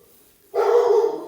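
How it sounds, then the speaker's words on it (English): A single dog barks once, a short loud burst that starts abruptly mid-clip after quiet room tone, with no talk over it. "There's Ada barking, sorry about that"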